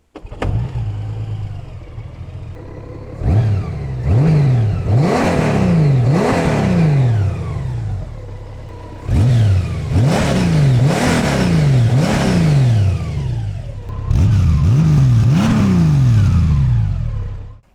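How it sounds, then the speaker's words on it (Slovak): A Honda Goldwing 1800 six-cylinder motorcycle engine fires up and is blipped repeatedly, several sharp revs rising and falling in three bursts with pauses between, loud and close with no talk. "Všetky verzie Goldwinga som vám doteraz naštartoval, tak to nemôžem spraviť výnimku ani pri novej 1800."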